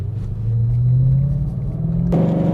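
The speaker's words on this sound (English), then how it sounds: "Going up a hill right now, downshifting." Car with a Borla exhaust downshifting while climbing a hill, a deep loud rumble that swells as revs rise, then shifts tone sharply near the end as the gear changes.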